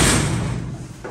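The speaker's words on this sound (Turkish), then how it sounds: "Ben kapatayım kapıyı." A door is pushed shut at a poultry coop, one loud thudding close at the start with the sound fading over about a second.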